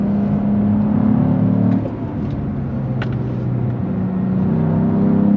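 Twin-turbo engine of a 2022 Cadillac CT4-V Blackwing with a six-speed manual, droning steadily under load as it pulls through the rev range, heard from inside the car, continuous and fairly loud with a brief dip midway.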